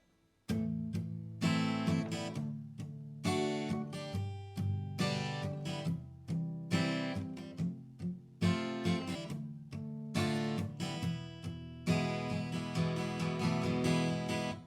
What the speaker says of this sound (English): So the verse could sound something like this using the palm muting technique.